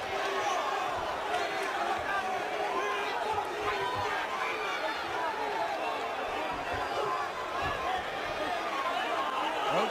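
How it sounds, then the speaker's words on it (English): A boxing arena crowd in San Antonio roars for Cruz late in a Roach vs Cruz fight, a dense, continuous wash of cheering and shouting that never lets up, with a commentator talking over it. "The crowd in San Antonio trying to will Cruz"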